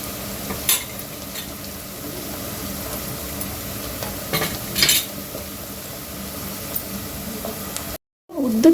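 Onions browning in a pan with a spoonful of ginger garlic paste added for mutton saaru, a low steady sizzle with a few scraping stirs and utensil clinks, then a brief cut and a louder sizzle burst.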